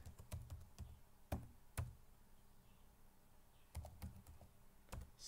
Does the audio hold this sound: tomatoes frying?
no